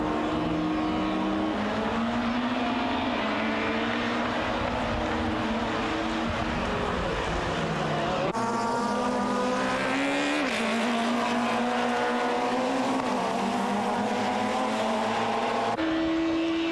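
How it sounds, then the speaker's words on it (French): Supertourisme touring cars race at Magny-Cours in 1997, engines screaming close by and shifting pitch as they pass and change gear, with a continuous loud roar and no talk. "Au deuxième tour, De Chavannes mène toujours"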